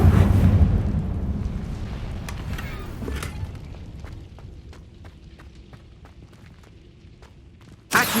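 The Incendio fire spell in Hogwarts Legacy bursts with a loud whooshing blast up front, then a crackling, popping fire trail that decays over several seconds before a sharp new burst at the end.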